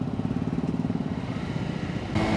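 A Honda CBR 150 R motorcycle being ridden gives a steady, close engine drone with a fast, even pulse, rising to a slightly louder, brighter note near the end.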